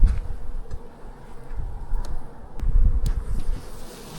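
Honey bees hum around an open hive already into its second box, a close, continuous buzzing that swells and fades with a few faint knocks from handling.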